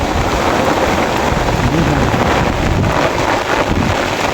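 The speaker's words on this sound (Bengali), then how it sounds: "দেখেন কীরকম বৃষ্টি বৃষ্টি আর বৃষ্টি" Heavy rain pours steadily over a flooded wetland during fishing, a loud, dense broadband downpour with wind buffeting the microphone throughout.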